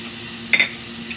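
Shrimp and seafood fry in a pan with a brief sizzle and a stirring scrape, set against a low hiss.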